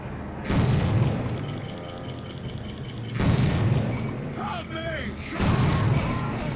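Gunfire in the shooter game Soldier of Fortune: three heavy booming bursts spaced a few seconds apart, each with a ringing tail, with a short mechanical chirp between them and a voice talking faintly underneath.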